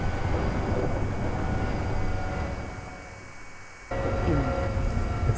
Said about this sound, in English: listen to the train passing by.